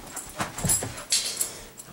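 A dog at play pants and gives a few soft whimpers in short, close bursts over a couple of seconds, with no talking.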